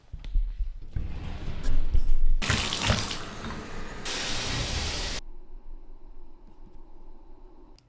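Water running in a shower hisses and splashes, starting and stopping in a few bursts, with some quieter running water near the end.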